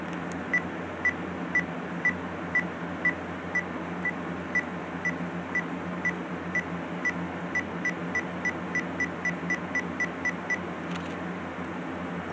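A Pentax Optio E40 digital camera's self-timer gives a long run of short, faint beeps at an even pace that quickens near the end, over a low steady room hum.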